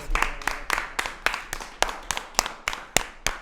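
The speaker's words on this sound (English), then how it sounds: "let's give him a round of applause" A small group applauds a guest in a studio, with a run of distinct, fairly evenly spaced claps that stand out crisply and nearby over a quiet background.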